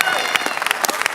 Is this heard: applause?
yes